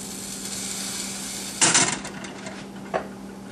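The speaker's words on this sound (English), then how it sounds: "Time to add the tomato, onion, and serrano peppers." Tomato, onion and serrano peppers drop into a simmering pot of pork sinigang, a sudden splashing clatter midway over a low steady hum, followed by a smaller plop a second later, close and clear.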